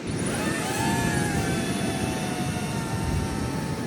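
A camera drone flies overhead at a beach in Bali, its steady whining buzz with thin high tones holding level over broad rumbling wind-like noise for the whole stretch, with no talk.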